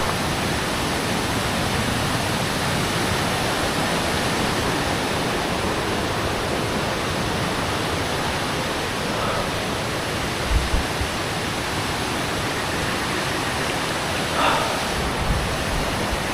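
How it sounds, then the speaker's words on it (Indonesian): A strong, fast-flowing river along a forest bank rushes in a loud, steady broadband roar that stays constant and near throughout, with a couple of faint knocks late on. "Jadi melipir ke pinggiran sungai yang cukup deras ini ya."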